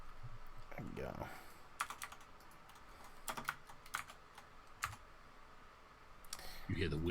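Sparse computer keyboard keystrokes typed into a dice program, soft individual taps over a low background hum, with faint voices at the start and end.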